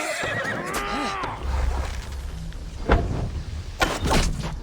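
A horse neighs loudly with a quavering whinny, followed by thuds and clattering hoof-like knocks in Assassin's Creed Valhalla, Siege of Paris battle.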